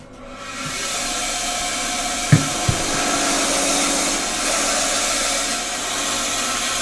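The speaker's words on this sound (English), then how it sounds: "Now going to put the bandsaw on." A bandsaw powered by a Jackery Explorer 1000 power station hums and whirs continuously at fairly loud volume after spinning up, with a couple of brief knocks near the start.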